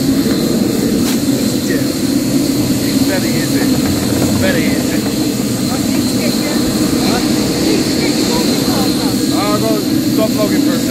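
Airplane engine droning steadily and loud throughout, a continuous propeller and engine hum with faint voices murmuring underneath.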